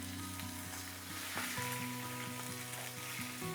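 Steak searing in a hot pan, a steady broadband sizzle running throughout with tonal hum from a nearby appliance underneath; no talking.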